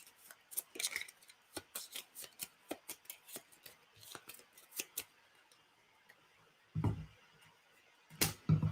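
A deck of cards is shuffled close up, giving a quick run of crisp, rhythmic flicks and riffles, then a pause and a couple of duller thumps as the cards settle.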